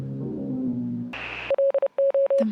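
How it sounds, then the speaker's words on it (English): Morse code signal on a radio in the Oxenfree video game: a steady tone chopped into short and long beeps, after a low hum and a brief burst of static. "The Morse code."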